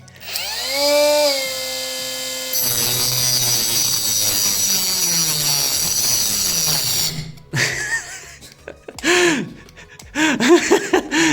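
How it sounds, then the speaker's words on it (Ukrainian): A cheap miniature angle grinder bought from AliExpress cuts into 3 mm pipe with a loud, high, whining motor and a steady grinding screech. The tone drops as the disc bites, then the grinder stops and restarts in short bursts near the end. "Труба 3 мм проти китайської мініатюрної болгарочки"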